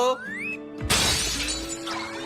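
An anime sound effect of something shattering: a sudden loud burst of breaking glass-like crash cuts in after a brief tonal sweep, then a scattered ringing decay, with no speech.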